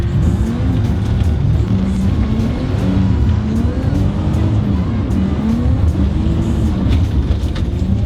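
A car drifting at full steering lock on a frozen-lake ice track roars loudly and continuously, its engine note rising and falling in wavering revs, close up and without talk.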